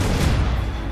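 Ship cannons fire in a naval battle in Assassin's Creed Rogue, a dense, rumbling volley of heavy booms that fills the whole second with no gap.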